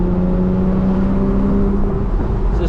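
A 2013 Porsche 911 Carrera S Cabriolet's rear-mounted engine pulls hard through the mid-range, a steady loud droning hum with rising tone heard from inside the cabin, no talk.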